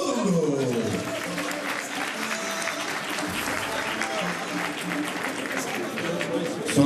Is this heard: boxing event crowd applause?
yes